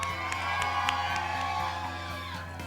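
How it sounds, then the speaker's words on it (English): A crowd at an outdoor Light The Night charity event cheers and claps for the sponsors, a broad roar of applause with whoops and shouts rising briefly. "Big round of applause for them."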